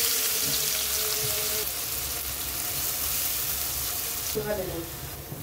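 Sliced onions fry in hot oil in a frying pan, a constant close sizzle with some tonal clatter and stirring near the start and end, and no one talking.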